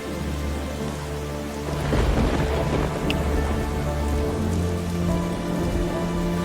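Steady heavy rain pours on surfaces and a low rumble of thunder swells partway through, filling the scene with loud, continuous noise and no voices.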